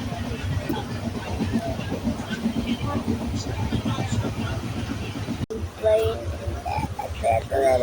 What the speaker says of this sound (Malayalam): V are inside A train.